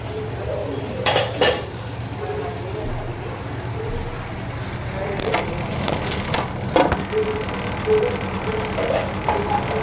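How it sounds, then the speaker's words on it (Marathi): A lid goes onto a cooking pot of dal in a home kitchen, bringing a brief metallic clink early on and then a cluster of clattering knocks and rattles later, over a low steady background hum. "डाळ पण झालेली आहे. आता आपण झाकण लावू."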